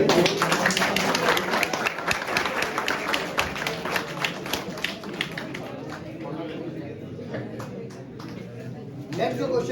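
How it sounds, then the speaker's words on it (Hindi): Applause from the audience at a Bikaner memorial event for martyr Hemu Kalani, a dense patter of many hands clapping for most of the stretch and then fading near the end, with faint voices in the hall. "प्लीज तालियां करें।"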